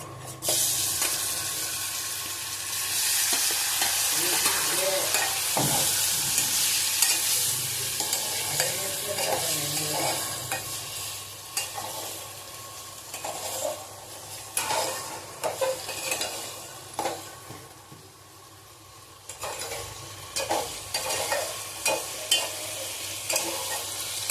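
Paneer cubes fry in hot oil in a pan, a steady broadband sizzle throughout with occasional stirring clinks and scrapes, close and fairly loud, no voices.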